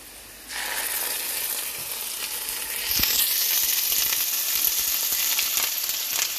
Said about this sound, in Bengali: আদা রসুনটা দিলে না একটু তেল ছিটে আসে